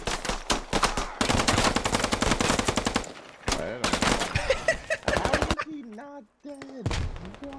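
Pistol fire in a military video game pitting Chinese against American troops: loud, rapid volleys of shots crowd the first half, then thin into scattered bursts with tonal game sounds at the end.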